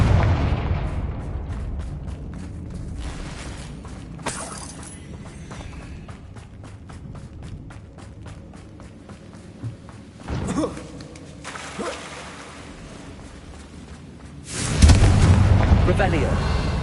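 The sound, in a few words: Confringo blasting spell explosions in a video game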